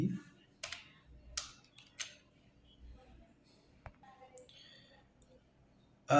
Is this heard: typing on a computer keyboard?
yes